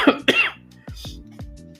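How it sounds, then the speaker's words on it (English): A person coughs several times in short, throaty bursts, close to the microphone, with a bit of throat clearing and no talk in between. "today I just feel like coughing"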